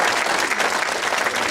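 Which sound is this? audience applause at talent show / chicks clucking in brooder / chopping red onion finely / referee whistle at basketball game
audience applause at talent show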